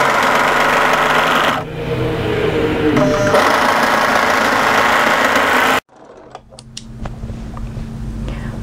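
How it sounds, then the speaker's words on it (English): An overlock sewing machine stitches a raglan sweater seam in a loud, fast, continuous whir that dips briefly, then runs on before cutting off abruptly, followed by quieter clicks and handling sounds. "match those double notches there and overlock that seam into place"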